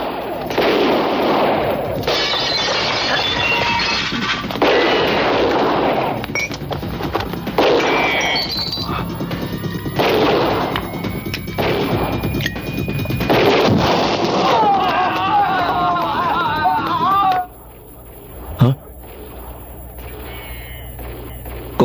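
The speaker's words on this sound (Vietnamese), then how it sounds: "hình như là tiếng súng đó" Gunshots in a movie scene, repeated loud bursts of gunfire and heavy thuds in rapid irregular volleys with crashes between them, then a short quiet gap and a final sharp shot.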